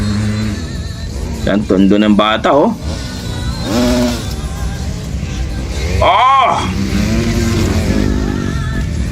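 A 150cc motorcycle engine revs in a brief rising and falling burst mid-clip, with excited voices talking and exclaiming before and over it.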